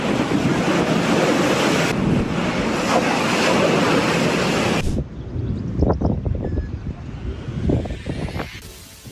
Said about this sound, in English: a storm whipped up fierce waves that crashed over the seawall